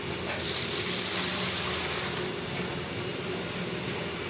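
Water pours steadily into flour while poori dough is being made, a continuous close splashing rush with no breaks, heard on its own without talk.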